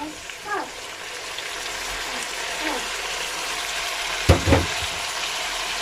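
Tomato drops into a hot frying pan for a spinach and beef sauce, giving a soft steady sizzle with a few brief clatters near the end.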